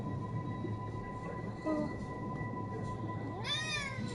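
Pet cat meowing indoors, a brief meow in the middle and a longer, rising cry near the end, heard over a low steady background hum.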